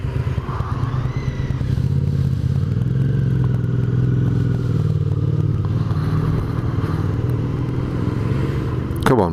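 A Suzuki SV motorcycle passes on an evening road ride, its engine a steady close rumble that swells and fades, heard over the constant drone and wind of the recording bike.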